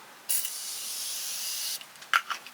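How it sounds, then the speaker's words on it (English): A single sustained aerosol spray of makeup setting spray onto a face hisses for about a second and a half, close up, followed by a few soft clicks and rustles. "let me do a little setting spray"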